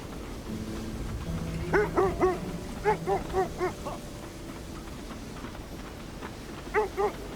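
Husky dogs bark in short bursts within the Kona II: Brume video game, a cluster of three or four yelps followed by a later pair, moderately loud over a low ambient hum.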